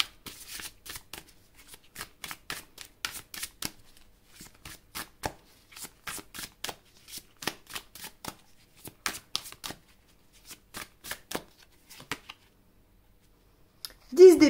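Tarot cards shuffled by hand in a quiet room, a long run of crisp riffles and soft slaps in an irregular rhythm, close and clean, with a brief voice at the very end.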